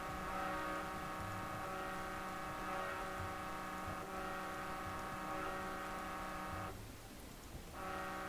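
A vehicle horn in the Dustland Delivery video game blares steadily and loudly for several seconds, a sustained tonal honk over a rumbling engine-like background. It breaks off briefly near the end.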